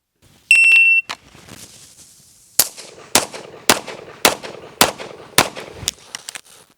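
A shooter fires a string of pistol shots in USPSA competition training, sharp loud cracks spaced about half a second apart after a brief electronic shot-timer beep.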